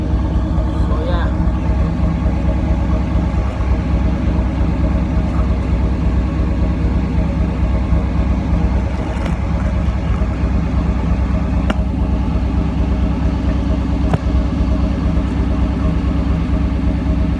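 The engine of a 1990 Pontiac Firebird with original exhaust piping idles with a steady, loud low rumble held throughout.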